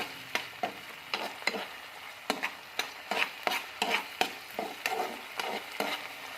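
Chopped tomato and onion fry in a pan for palak paneer with a constant sizzle, broken by frequent rhythmic scrapes and taps of a spatula stirring the mixture.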